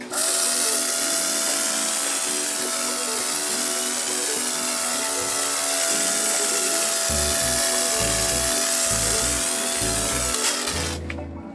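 A foam gun spraying diluted car shampoo onto a car gives a continuous, loud, broadband hiss that runs nearly unbroken, with faint rhythmic clicking or pumping noises underneath toward the end.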